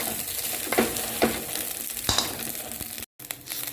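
Fried rice with egg, spinach and chorizo sizzling steadily in a pan over medium heat, with occasional stirring scrapes and a brief dropout near the end.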